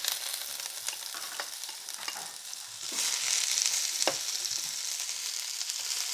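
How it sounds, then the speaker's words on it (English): Diced onions stirred in olive oil in a pan: a steady close sizzle of frying with scraping utensil strokes and light clatter against the pan, intensifying slightly midway, no talking. "You're going to stir the onions around in the pan."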